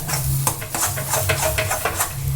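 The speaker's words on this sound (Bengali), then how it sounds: "এবার ডালটাকে কিন্তু সুন্দর করে তেলের সঙ্গে নেড়ে নেব আমরা" Chana dal being stirred in hot oil in a pan for hing kachori filling, with steady scraping and clinking of a spoon against the metal and a soft sizzle underneath, continuous and close.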